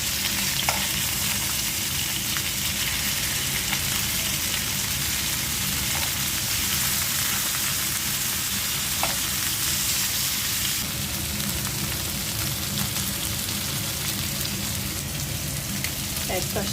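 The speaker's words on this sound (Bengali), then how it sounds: "এক পাশে মাছ ভাজা হচ্ছে" Hilsa fish pieces fry in a pan with a dense, unbroken crackling sizzle like heavy rain that persists throughout, with occasional faint clicks and no clear talking.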